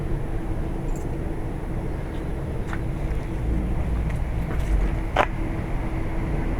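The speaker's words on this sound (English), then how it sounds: "these are two really old Whirlpool central air conditioners at a commercial or an apartment" Two old Whirlpool central air conditioners at a commercial or apartment building run on a hot, humid day, giving a steady, close broadband drone with a low hum and a few faint clicks on top.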